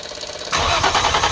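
A 700whp turbo Infiniti G35 engine starting for the first time: a brief cranking sound, then a sudden loud close roar as it catches and runs rough.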